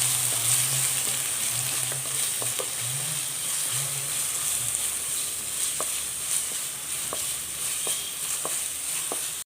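Crushed ginger, garlic and green chili frying steadily in oil for tuna thoran, a continuous close sizzle with occasional sharp crackles and a few stirring clicks, no voices.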